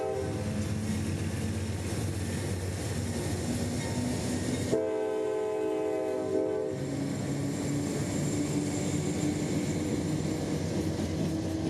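A heavy freight train rumbles steadily past a switch at close range, with a loud horn blast sounding midway over the constant rolling drone of the cars.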